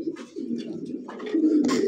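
Pigeons kept for sale, including young squabs, cooing steadily and close by in low, throaty rolling calls that swell toward the end, with no speech.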